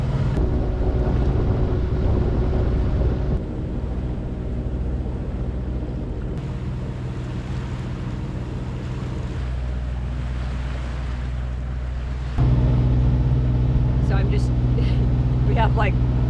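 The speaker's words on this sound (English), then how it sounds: "there's just not much wind, so we're just motoring" A sailboat motoring under engine power at sea in light wind, a steady low engine drone with water rushing past the hull and wind noise throughout, the pitch shifting partway, with a short whistling chirp near the end.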